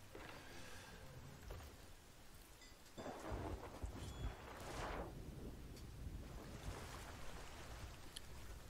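Thunder rumbling from a lightning strike in Sea of Thieves, a low rolling boom over steady rain and sea noise, fairly loud and with no talk.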